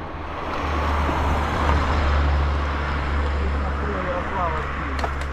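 A car moves along a street in Adler, its broad road rumble heard steadily from inside a vehicle, with low engine drone and traffic noise filling the scene as people talk.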